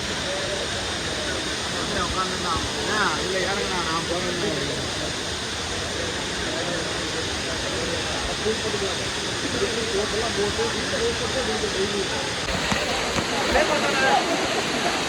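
A steady, loud roar of rushing, falling water at Courtallam (Kutralam) waterfall fills the whole stretch without pause, with faint voices in the background.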